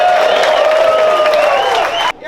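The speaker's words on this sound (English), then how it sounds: "So give yourselves a round of applause." A crowd at a Lemons endurance race weekend in Road Atlanta bursts into loud, sustained applause and cheering with whoops, ending abruptly.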